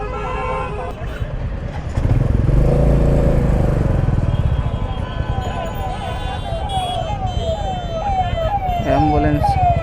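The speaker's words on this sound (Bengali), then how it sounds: "অ্যাম্বুলেন্স।" An ambulance siren wails in city traffic at a signal, repeated rising and falling sweeps that grow clearer toward the end over the rumble of motorcycle and car engines.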